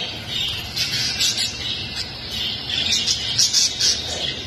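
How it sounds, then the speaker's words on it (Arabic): English lovebirds at an ornamental bird dealer chirp in rapid high-pitched bursts, several birds calling over one another in an uneven stream against a constant low background hum. "طيور حب إنجليزيات"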